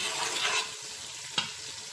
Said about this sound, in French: Je fais revenir les oignons dans l'huile.